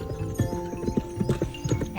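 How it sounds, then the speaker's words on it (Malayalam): A running horse with quick, loud, rhythmic clip-clop hoofbeats close by and a neigh rising above them, no one talking. "ഒരു കുതിര ഓടുന്നു."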